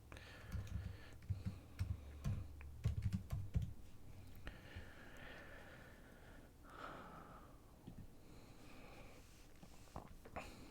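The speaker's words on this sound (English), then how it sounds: "Type your address in." Soft clicking keystrokes on a computer keyboard as an address is typed, quick irregular taps close by and faint, with some breathing and light handling noise around them.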